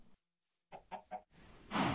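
A sand chicken in the Minecraft modpack Foolcraft gives a short burst of three quick clucks, followed by a brighter, louder squawk. The sound is close and clear, with no talk over it.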